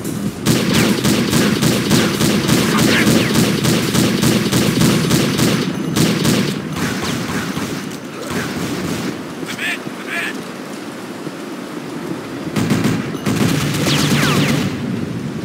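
Loud, rapid bursts of gunfire fill a round of Unreal Tournament played with a Counter-Strike weapons mutator. Dense volleys rattle for several seconds, ease briefly, then strike again near the end.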